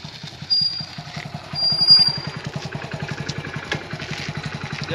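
A motorcycle idles nearby, parked in front of a temple, with a steady rapid low putter that runs evenly throughout, and faint clatter and background noise around it.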